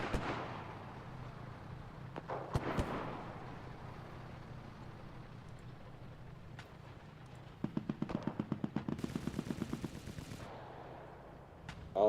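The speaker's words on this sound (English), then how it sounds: "Damn, those are shots." Gunfire in Rainbow Six Siege, a couple of sharp shots early, then a fast rattling burst of automatic fire later, heard at a moderate distance over a low game background.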